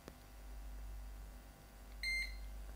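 A multimeter on continuity test gives one brief, faint, high beep near the end, after a quiet stretch of low background hum.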